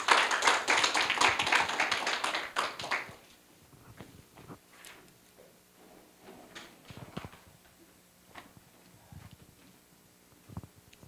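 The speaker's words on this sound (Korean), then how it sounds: "그럼 여러분 저 이승환 교수님 박수로 맞이해 주시기 바랍니다." An audience at a Korea University academic workshop lecture gives a burst of dense applause for about three seconds to welcome a speaker. It then fades into a quiet room with scattered taps and shuffles.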